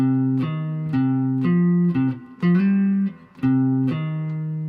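A single plucked guitar line plays the slow opening melodic phrase of a tune, sustained notes each with a clear, ringing attack, alone with no voices.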